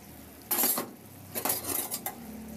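A metal pot lid clanks down over a pot of braising pork ribs in sauce. A sharp clatter is followed by a couple of lighter metallic knocks and clinks, near and alone.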